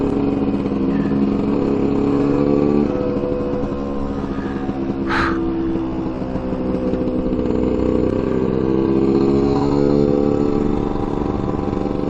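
Lambretta scooters ride along a Danish road, a steady droning engine hum heard from on board with wind rush, while a crow caws once nearby.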